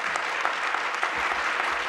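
A roomful of people claps continuously at an Oradell board meeting, the applause thick and even from start to finish, with no voices rising above it.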